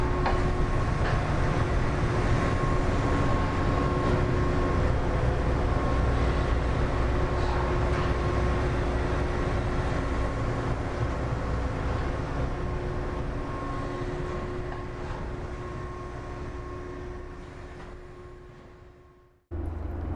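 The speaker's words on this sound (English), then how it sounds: "That's the piston that moves the paddle wheel." The American Queen steamboat's piston drives the paddle wheel, producing a continuous loud mechanical rumble with steady low hum that holds for about nineteen seconds before cutting off abruptly.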